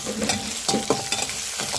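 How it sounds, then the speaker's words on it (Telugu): Ivy gourd frying in a pan with chili powder, turmeric and salt, a steady sizzle broken by several loud scraping stirs of a spatula, close and with no talking. "బాగా ఫ్రై అవుతూ ఉన్నాయి కదండి"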